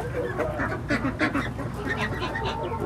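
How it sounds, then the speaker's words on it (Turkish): Ducks feeding in a farmyard flock give a string of short quacks and nasal honks at close range, interleaved and fairly steady across the moment, with a voice speaking over them. "Ördekler yemeye devam ediyor."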